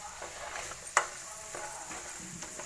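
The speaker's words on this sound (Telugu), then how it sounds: "మసాలా వేసి కూడా కలపాలి" Fish fry pieces being mixed with turmeric, salt and chilli masala in a pan, giving a faint steady sizzle with soft scraping stir strokes and one sharper clink near the start; no talking.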